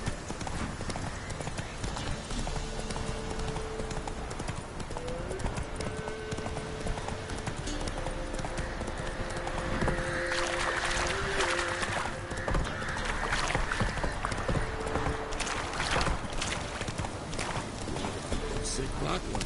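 Horse hooves clip-clop steadily at a gallop in The Witcher 3 on PS4, a continuous rhythmic beat laid over background game music and ambient sound, with a character's voice speaking at points.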